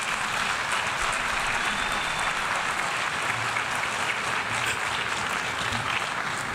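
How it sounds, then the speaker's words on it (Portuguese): Sustained applause from a large audience after Lula's speech at the UN, a dense, even wash of clapping that holds steady at full strength from start to finish. "o Lula arranca mais aplausos da plateia ao falar sobre meio ambiente"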